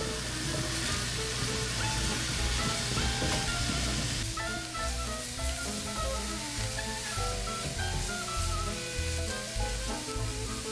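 Salted vegetables sizzling and sweating in a pan for Bolognese, a loud, steady hiss of frying with a few soft stirring sounds and no talk.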